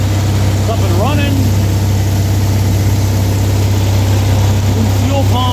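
An RV generator engine, freshly fitted with a new fuel pump, runs at a steady loud drone, close and continuous, while someone speaks briefly over it.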